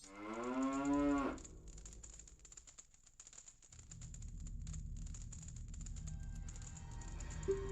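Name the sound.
cows mooing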